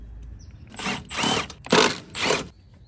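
Four short bursts from a power drill or impact driver working on the E14 inverted-star (Torx) valve cover bolts of a BMW 328i E90 with N51/N52 engine, each burst roughly a third of a second, close and moderately loud, no talking.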